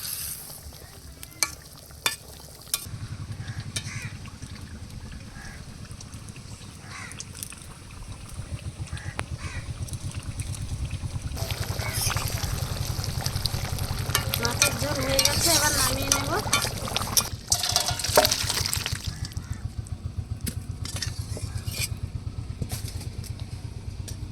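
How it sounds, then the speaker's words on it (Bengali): Fried bata fish simmers in a spiced curry with garam masala in a kadai. A steady bubbling sizzle grows louder midway, broken by repeated scraping stirs of a spoon against the pan. "ভেজে রাখা মাছগুলো দিয়ে দেবো এবার দু মিনিট ফুটিয়ে নামিয়ে নেবো"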